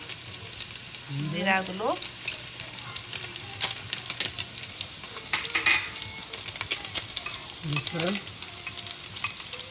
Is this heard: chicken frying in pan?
yes